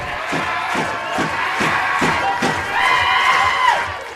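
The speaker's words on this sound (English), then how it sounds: "Listen to this crowd." A crowd at a college volleyball match between West Texas A&M and Arkansas-Fort Smith cheers loudly at match point, with rhythmic thumping claps or stomps pulsing under sustained shouting and roaring.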